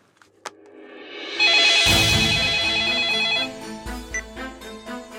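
A telephone rings in a scene from a Bhojpuri film, with a loud, steady electronic ringtone lasting about two seconds before fading into quieter background sounds.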